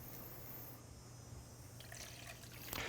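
Half a cup of water is poured into a mirin sauce of rice wine for Korean ribs, a faint trickle and splash under a hissing background.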